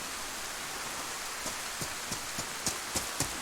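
Steady rain hiss falls in DayZ on the Chernarus map, a broad even wash broken by a few sharper drop taps and thumps toward the end, faint and without voices.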